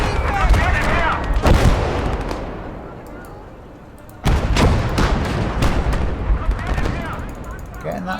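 Gunfire in a WWII tank battle video game: loud bursts of shots and booming blasts, with clusters early on, a quieter lull, then a sharp renewed volley followed by scattered cracks.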